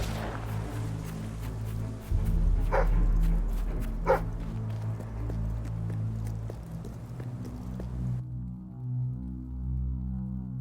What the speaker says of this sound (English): He's a merry dog, isn't he?